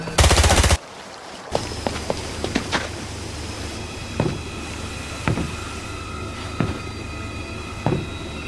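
Gunfire in the James Bond Blood Stone video game: a dense burst of rapid automatic fire at the start, then scattered single sharp shots over a steady rumbling background.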